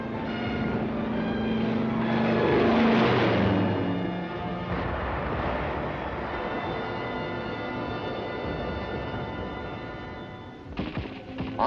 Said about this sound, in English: infantry watch United States planes strafing the enemy in the nearby hills.